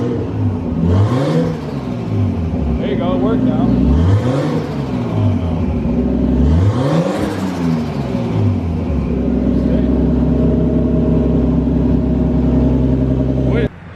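A Nissan 240SX drift car with an RB20DET engine revs in three rising-and-falling bursts, then settles into a steady idle, with people talking nearby over the engine.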